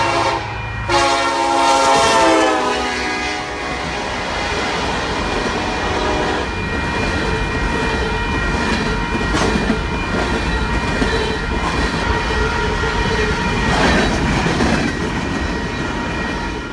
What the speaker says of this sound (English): we find this SD-70 on the point of an American Electric Power coal unit train